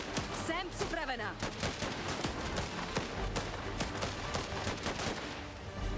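Dense video-game gunfire in Last Train Home, with rapid overlapping shots and fusillade bursts that are loud and near, continuing unbroken over a rumbling battle background, while voices are heard faintly underneath.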